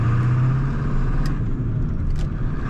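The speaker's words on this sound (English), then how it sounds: "As you can probably hear, this is a diesel." A 1997 Ford F-250 HD extended cab diesel with a turbo and 5-speed manual runs on the road, giving a steady low rumbling drone under faint road noise.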